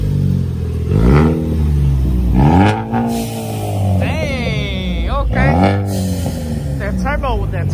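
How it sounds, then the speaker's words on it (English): A turbocharged car engine revs hard at a car meet in repeated rising and falling bursts, with a high turbo whistle climbing along with each rev, loud and close. "That turbo whistle. That turbo though. That turbo sound good."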